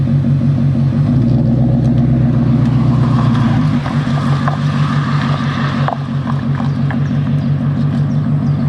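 A Ford Mustang GTD with a cross-plane crank engine idles with a loud, throbbing low burble that shifts pitch midway, amid windy outdoor noise and faint scattered background sounds.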